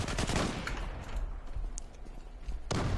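Rapid automatic gunfire from an M4 rifle being sprayed in the online shooter Zula, a dense continuous burst with a few sharper cracks, loud and close throughout, with no talking.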